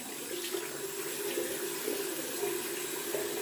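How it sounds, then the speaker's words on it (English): Tap water runs steadily into a sink as a shaving brush is rinsed under it, a continuous close splashing hiss with slight shifts in flow and no voices. "I'm gonna rinse off my brush"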